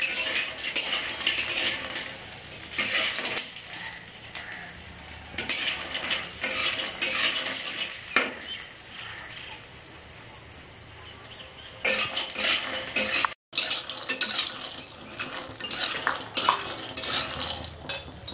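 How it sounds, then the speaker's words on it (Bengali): Lentil dumplings (bori) fry in oil in a pan, a steady sizzle broken by frequent scraping and clinking of a utensil against the pan, close and moderately loud throughout. "বড়িগুলো সবার প্রথম আমি ভেজে নেব তেল দিয়ে।"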